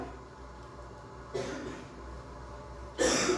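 Two short coughs from a child, one soft and one sharper, breaking a quiet background hum.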